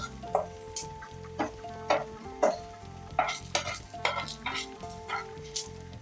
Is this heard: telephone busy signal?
no